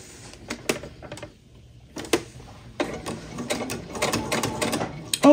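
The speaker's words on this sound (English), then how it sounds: "I'm just going to sew along that edge" A home sewing machine stitching along a fabric seam while making a Christmas ornament coaster, bursts of close, rattling mechanical whirring that stop and start, with short pauses between runs.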